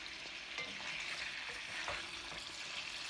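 Fat scraps render into lard in a pan over medium heat, giving a steady dense sizzle with faint scraping stirs now and then; no voices.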